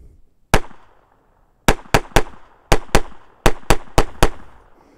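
A Ruger SR22 .22 pistol fed from severely rusty magazines fires about ten sharp, close shots. A single shot comes first, then quick pairs and a fast string of four, with quiet between bursts.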